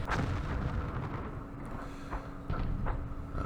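Rocket artillery salvos in the Vietnam wargame Campaign Series Vietnam, heard as a dense, continuous rumbling roar with a few sharper bursts near the end, loud and steady throughout.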